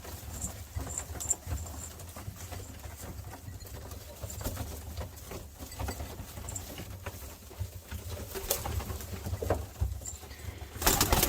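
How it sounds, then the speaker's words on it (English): Pigeons in a crowded breeding loft, cooing and shuffling steadily throughout with soft wing patter and scratching, nearby and continuous, swelling a little louder toward the end. "There's a lot of pigeons in there. Look at them all."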